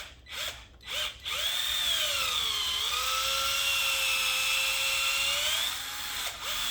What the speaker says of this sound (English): I'm not drilling any metal. This is rubber.